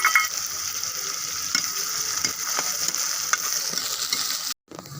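Onions fry in a pan with cumin seeds and whole coriander, a steady fine sizzle with occasional stirring scrapes and clicks, ending in a brief silence.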